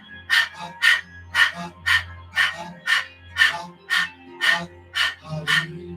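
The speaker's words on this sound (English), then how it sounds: "panting like a dog, I move my belly and my diaphragm." A person demonstrating Kundalini yoga Breath of Fire, panting like a dog by pumping belly and diaphragm: about eleven quick, evenly spaced breathy bursts, close and fairly loud, with no other sound between them.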